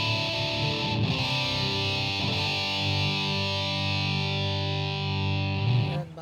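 Electric guitar through a distortion effect on an amp-less rig rings out as thick, sustained, saturated chords, loud and buzzing, with a couple of chord changes and a sharp restrike near the end.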